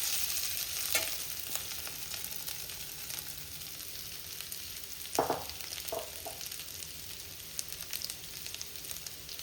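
Potatoes frying with turmeric in a pan for an aloo samosa filling, giving a steady, soft sizzle throughout, with a few brief stirring clatters in the middle.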